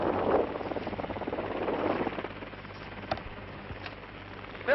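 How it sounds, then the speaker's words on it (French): A helicopter near the Brèche de Roland in the snowy Pyrenees mountains above Gavarnie, France, a steady rotor and engine drone mixed with wind rush, continuous and moderately loud, with a couple of faint clicks and no speech. "Voilà, je viens de descendre de l'hélicoptère."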